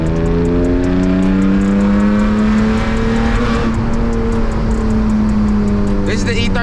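Manual E36 car driven through the hills, its engine revving loud and close as the pitch climbs steadily through the gears, with a continuous roar under the cabin.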